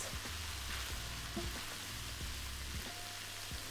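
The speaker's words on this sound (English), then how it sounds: "Now stir that all together and cook it for a further minute" Cheeseburger pasta sauce with tomato puree and Worcestershire sauce bubbles in a pan while being stirred, a soft, steady sizzle with irregular spoon scrapes and knocks against the pan, fairly quiet and close.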